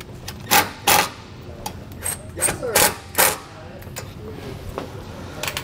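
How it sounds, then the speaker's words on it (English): Screws are tightened on the cover of a Furrion Vision S wireless RV observation camera on a 2018 Heartland RV, with several close, sharp clicks and scraping bursts spaced irregularly. "So we just slide it back on, and now we'll tighten those back down."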